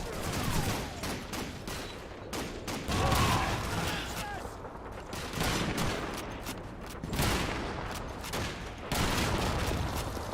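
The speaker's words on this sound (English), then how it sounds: "It's an MG42!" Game combat in a retro shooter with MG42 machine gun fire, heavy bursts of automatic shots arriving in several long waves mixed with other gunfire, booms and mechanical clatter, with voices shouting over it at times.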